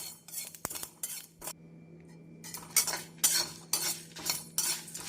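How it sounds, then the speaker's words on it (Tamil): Coriander seeds and dried chilies dry roasting in a pan for brinjal rice, heard as repeated scraping and clinking of a metal spoon against the pan in short irregular strokes, close and moderately loud, with no talk. "இந்தளவு மல்லி சேர்த்து நன்றாக வறுபடவும் காய்ந்த மிளகாய் ஆறு சேர்க்க வேண்டும்"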